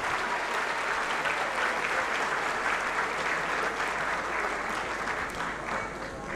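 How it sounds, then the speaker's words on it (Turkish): Sustained, dense applause from a concert audience at a Turkish folk music ensemble performance, steady and loud throughout with a slight fade near the end. "Büyük bir alkış alıyoruz efendim bir kez daha"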